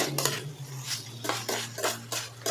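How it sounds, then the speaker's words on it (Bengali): Spiced boiled soybeans being stirred in a pan with a metal utensil, giving repeated close scraping and clinking strokes against the pan in an uneven rhythm, with no talking. "সোয়াবিনটা দিয়ে আমি ভালোভাবে নাড়িয়ে নেবো মশলার সাথে মিলিয়ে নেবো"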